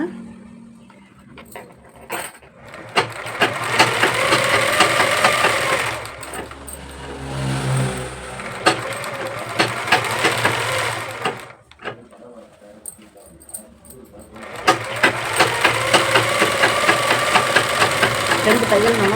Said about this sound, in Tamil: இதில் நம்ம ஓவர்லாக் கொடுக்க போகிறோம்